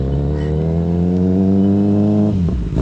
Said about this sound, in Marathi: साहिल येतोय बघा, गाडीचा रेप बघा